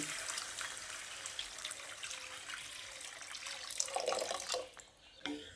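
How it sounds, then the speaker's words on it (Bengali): Water pours into cooked masala for a jackfruit kofta gravy, a soft continuous splashing and trickling that swells briefly before stopping, fairly quiet and close. "এবার এই পর্যায়ে আমি পরিমাণ মতো জল দিয়ে দিচ্ছি"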